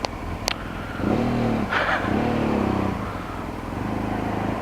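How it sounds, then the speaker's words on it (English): A Triumph Street Triple motorcycle passes by on a road, its engine note rising into a steady drone and then fading, with a second swell of engine sound following; no talking. "Triumph Street Triple."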